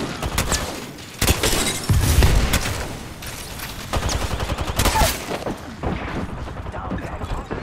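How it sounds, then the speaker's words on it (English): Dense automatic gunfire rattles in Apex Legends ranked play: rapid bursts, booms and shattering hits pile up close and loud, with game effects filling the gaps and a voice talking quietly under the shooting. "Firing."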